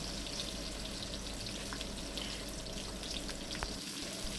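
Onions sizzle steadily in hot oil in a wok, a continuous crackling hiss with small pops and no talking.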